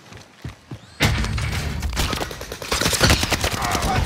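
Frag grenade exploding in Call of Duty: Modern Warfare multiplayer: after a second of quiet clicks and shuffling, a loud blast bursts in close and rolls into a dense crackle of gunfire and debris that continues to the end.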